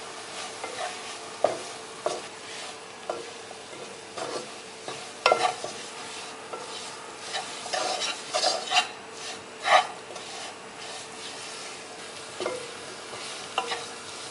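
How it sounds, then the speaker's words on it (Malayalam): Masala spices for a Kerala-style prawn biryani are stirred and fried in a pan, a soft steady sizzle broken by repeated scraping strokes of the spoon, close by with no talking. "നമുക്ക് മസാലയും കൂടി ഇടാം. നമുക്ക് നന്നായിട്ട് മിക്സ് ചെയ്യാം."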